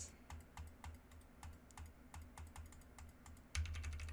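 Rapid, even keystrokes on a computer keyboard are captured faintly by a Razer Seiren Mini USB microphone, clicking steadily over a low hum with a louder thump near the end.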